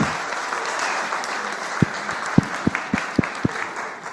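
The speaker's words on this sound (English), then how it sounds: "Give him a clap." A seminar audience of boys claps in a steady wash, and several louder individual claps stand out near the end.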